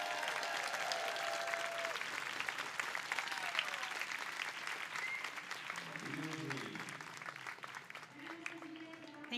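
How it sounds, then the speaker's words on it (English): An audience at the USC Keck School of Medicine 2023 Primary Care PA Program commencement ceremony applauds steadily, a broad sustained wash of clapping with brief voices and cheers mixed in near the end. "The time for applause again is right now."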